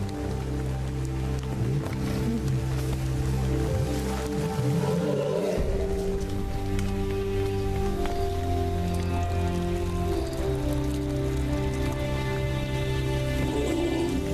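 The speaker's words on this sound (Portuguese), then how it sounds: "Brincando na chuva" Rain falls steadily across lion country in the wild, a constant wash of drops mixed with low growls from the big cats and sustained tonal music.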